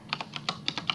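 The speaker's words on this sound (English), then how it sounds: "you get to hear the clicking of my gamer keyboard. Gotta love the mechanical buttons" Fast typing on a mechanical gaming keyboard, with about eight crisp clicky keystrokes in quick, slightly uneven succession, close and clear.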